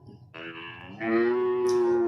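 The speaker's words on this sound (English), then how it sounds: "Yes, it is a cow." A single long, deep moo from a cow, starting softly and swelling into a loud, steady bellow.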